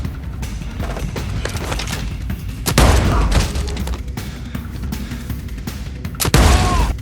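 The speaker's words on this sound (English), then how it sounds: "Startled by the gunfire," Gunfire bursts from a television playing a film indoors, loud booming shots and rapid volleys recurring in clusters, with the heaviest blasts around the middle and near the end.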